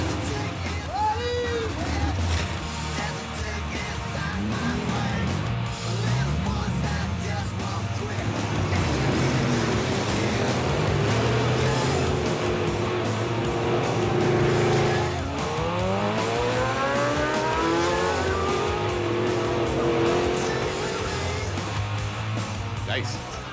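Classic pre-1960 American cars with V8 engines revving and roaring through Cuban streets, with tire squeals and passing engine sweeps, loud and close, while someone talks over the traffic noise.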